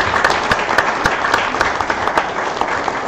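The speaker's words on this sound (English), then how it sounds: "Can we give them a round of applause?" Audience at a panel on Black musicians in classical music applauds steadily, a dense wash of many hands clapping at moderate loudness throughout, with no talk.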